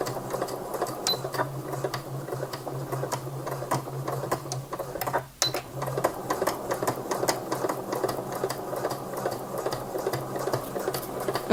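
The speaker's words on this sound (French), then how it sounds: "On va réaliser un point d'arrêt au début de notre couture et on coud à 1 cm du bord." A sewing machine stitches a facing to a lining, right sides together, about 1 cm from the edge. It runs as a steady, rapid mechanical whir with ticking needle strokes and one brief pause midway.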